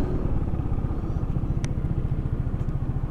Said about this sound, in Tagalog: Ganyan po namatay yung makina, no?